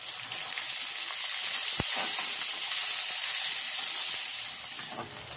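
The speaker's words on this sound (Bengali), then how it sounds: "যে পেঁয়াজটা রেখেছিলাম ওই পেঁয়াজটা তেলের মধ্যে দিয়ে দিচ্ছি" Onion drops into hot oil and fries with a loud, even hiss and sizzle close by, broken by a single sharp tap near the start.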